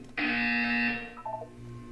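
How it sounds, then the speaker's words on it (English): A loud electronic buzzer from the video game Portal 2 sounds once, a harsh sustained tone lasting under a second, then trailing off into a softer descending chime. "When you hear the buzzer, look up at the ceiling"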